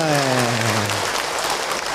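Audience at an Islamic religious talk applauding: loud, dense clapping from many hands that carries on steadily for a couple of seconds, with a voice finishing his words over the first half before the clapping continues alone.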